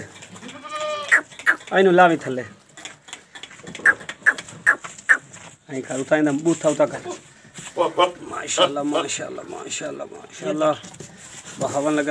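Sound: goats bleating at a goat farm

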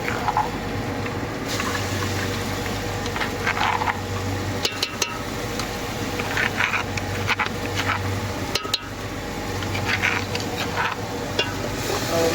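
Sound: masala spices frying with onions in a pan

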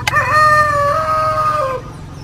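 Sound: rooster crowing

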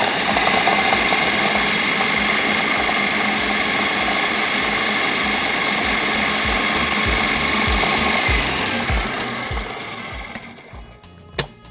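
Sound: electric chopper mincing garlic with cumin

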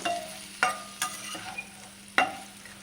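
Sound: dried fish frying with dry red chilli and crushed garlic

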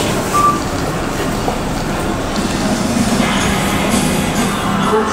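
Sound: Tobu 60000 series train arriving at a station

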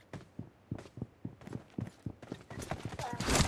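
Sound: footsteps in PUBG Mobile, a video game

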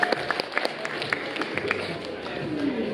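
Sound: crowd applauding the team

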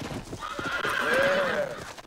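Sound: horse neighing and hooves in video game

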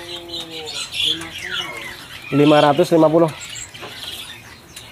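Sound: Raja Perling bird calling at Pramuka bird market

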